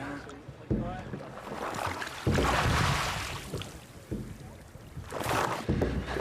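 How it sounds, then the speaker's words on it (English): Oars working a Viking longship as it is rowed along the Norwegian coast, rhythmic splashing strokes every second or two over constant wind and water noise, with voices talking faintly in the background. "They're going to row up the coast of Norway, bringing them a little closer to the Orkney Islands."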